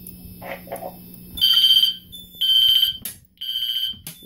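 A loud, piercing smoke detector alarm sounds in three sustained high-pitched bursts during a system test, with short beeps and a low hum before it starts.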